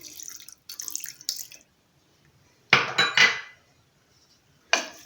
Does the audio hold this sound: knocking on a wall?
no